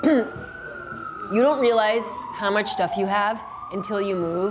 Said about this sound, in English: Excuse the siren, we are in New York City after all.